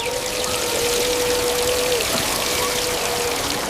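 Water runs steadily from a tap for hands being washed in a park, a continuous splashing stream that stays even and fairly loud throughout, with a faint thin tone running underneath.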